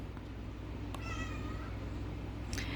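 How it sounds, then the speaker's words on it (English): A house cat meows to be let outside, giving one clear drawn-out meow followed by a shorter second cry, faint over a low steady background hum. "I apologize for my cat who wants to be let outside."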